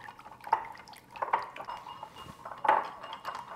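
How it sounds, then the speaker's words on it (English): A whisk beats oil and vinegar vinaigrette in a bowl for a tomato cucumber onion salad, making quiet, close metallic clinks and soft liquid splashes in irregular bursts. "You just want to take a whisk and just kind of mix this vigorously until it emulsifies"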